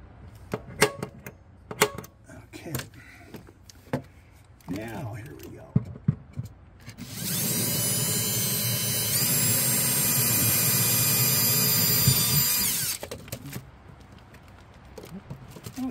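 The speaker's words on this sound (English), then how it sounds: "as the drill bit spins, it wants to move off of the line" A drill whines at a steady high pitch for several seconds in the middle as its bit spins on a slippery surface, preceded and followed by scattered clicks and handling noises.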